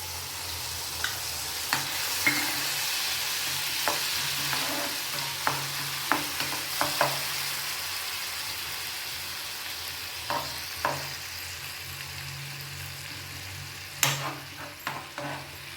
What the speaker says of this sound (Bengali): বাটারটা একটু গলে যাক। এবার টমেটো পিউরিটা দিয়ে দিচ্ছি।